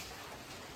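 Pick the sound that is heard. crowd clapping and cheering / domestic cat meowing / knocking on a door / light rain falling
light rain falling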